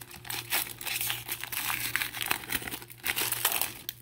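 Crinkly plastic wrapper of a 2021 Absolute baseball card pack being worked and torn open, a steady close crackling and rustling with sharper tearing moments throughout.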